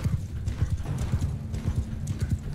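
Horse hooves gallop in a fast, steady clip-clop rhythm in the video game Mount & Blade II: Bannerlord, moderately loud with faint game background sound.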